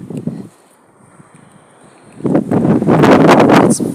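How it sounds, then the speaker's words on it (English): Strong wind gusting through a cottage garden: a brief rush, a quiet lull, then a loud, sustained roaring gust buffeting close to the microphone. "It's very, very windy today."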